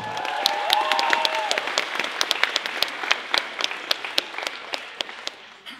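Loud, steady applause from a convention audience at a cosplay contest, dense clapping with sharp individual claps standing out near the front, a brief whistle early on, slowly fading toward the end.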